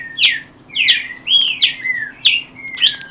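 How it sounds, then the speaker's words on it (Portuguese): Pixoxó finch chicks chirping: six bright, rising-and-falling calls repeated at an even pace, close and clear over a faint steady hum. "os filhotes já saem grisando, já saem."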